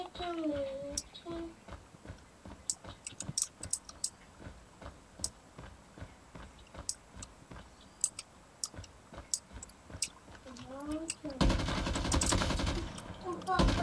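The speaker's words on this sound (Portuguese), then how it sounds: "Já estou a ouvir aí tiros." Rapid bursts of gunfire in Call of Duty Mobile crackle in sharp clusters throughout, with a louder harsh noise surge near the end.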